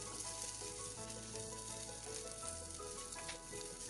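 Sliced garlic, green chilies and ginger fry in hot oil in a pan, with a steady close sizzle and crackle that continues unbroken throughout.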